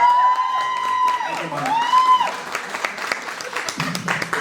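Loud audience applause with whoops and cheering greeting a speaker, a high whistle-like tone sliding over the clapping early on, and the crowd noise gradually thinning into scattered claps.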